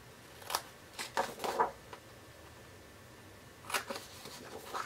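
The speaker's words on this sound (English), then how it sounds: "I have little triangle areas on the edges that I'm going to use scissors to cut out." Scissors snipping small triangles from the edges of a scored paper envelope blank, a few quick close cuts in two bursts separated by a quiet pause.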